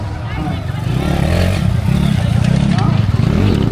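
A small 85cc motorcycle engine revs loud and close, its buzzing drone rising and holding steady under a busy outdoor mix with voices present.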